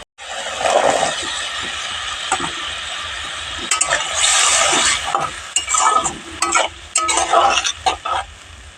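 Potatoes are stirred into a fish curry frying with salt, turmeric and chili powder, giving a steady close sizzle broken by repeated scraping and clattering spoon strokes against the pan.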